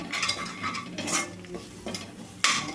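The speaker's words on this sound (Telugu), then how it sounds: "అడుగు అంటకుండా ఇట్లా కలుపుతానైతే వేయించుకోవాలండి" Radish poriyal stirred in a pan over a low flame, with a steady soft sizzle broken by repeated scraping and clinks of a spoon against the pan, close by and with no voices.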